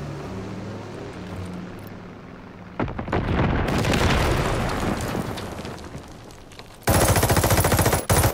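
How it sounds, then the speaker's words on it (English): A grenade goes off in a Team Deathmatch shooter game with a loud, rumbling burst. Dense gunfire and further blasts follow, and a sharp run of rapid shots comes in near the end. "Okay, I just hit that grenade for nothing."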